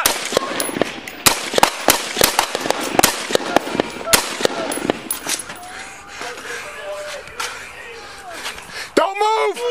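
Gunshots fired by police at an armed man during a street confrontation in Bakersfield, a rapid burst of loud sharp cracks early on, with shouting voices and a barking dog throughout.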